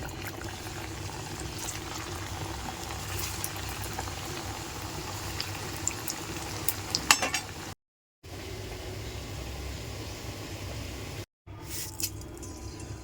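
Yam kofta balls sizzling in hot oil in a pan, a steady bubbling hiss throughout with occasional clinks of a utensil and two short gaps of silence.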